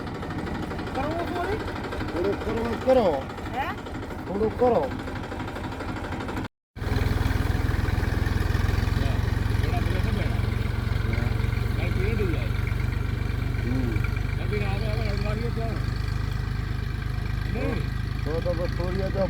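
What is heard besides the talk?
tractor engine idling on cumin farm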